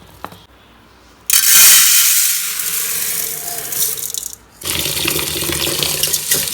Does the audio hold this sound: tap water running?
yes